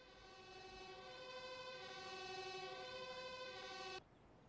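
An ambulance siren in the video game Police Force 2 holds a steady wailing electronic tone with rich harmonics for about four seconds, then cuts off abruptly, leaving faint background hum.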